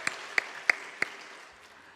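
Church congregation applauding during a Sunday afternoon worship service, a soft steady wash of clapping with a few sharper, distinct claps standing out near the start.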